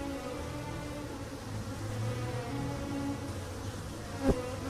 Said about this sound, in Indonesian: menggoyangkan tubuhnya maju mundur sambil menggetarkan sayapnya